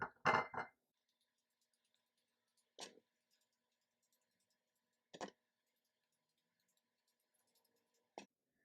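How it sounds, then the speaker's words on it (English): A fork pokes into sweet potatoes with one quick cluster of clicks, then three single sharp taps spaced a couple of seconds apart, close-up against near silence. "just take them and poke a few holes with a fork"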